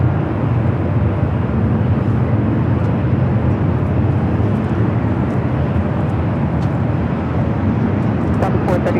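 An old TWA Boeing 757-200 airliner at LAX produces a loud, steady jet roar that stays broad and constant throughout, with faint ticks near the end.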